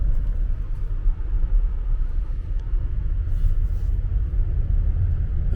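A car creeps along while parking near a beach, its engine a steady low rumble close by with no talking.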